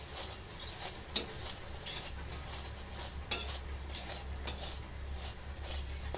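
A sweet flaxseed paratha sizzles steadily on a hot griddle as it roasts, with a continuous frying hiss and occasional sharp clinks and scrapes of a spatula.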